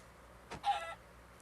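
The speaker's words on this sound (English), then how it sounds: "Let's kill the chicken." A chicken in a blocky Minecraft-style video game gives a short cluck, a brief pair of chirpy squawks standing alone against a quiet background.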